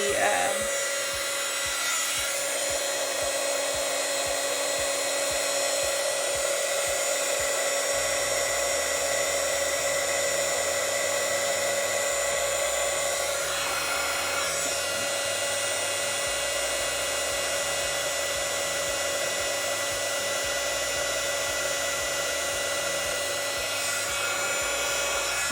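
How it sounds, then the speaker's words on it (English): A heat gun melting embossing powder for a craft card holder gives off a steady, airy hum with a high tonal whine, continuous and close for the whole stretch. "Now we're going to pull out with the heat gun. And we're going to melt"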